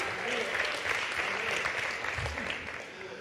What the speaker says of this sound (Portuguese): vamos bater palmas para o nosso Senhor Jesus Cristo